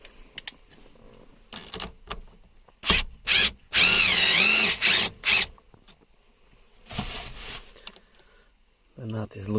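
A power tool whirs in short bursts and one longer, wavering run while loosening a nut on a Nissan 350z parking brake adjuster, close and loud, followed by a softer burst and a voice speaking at the end.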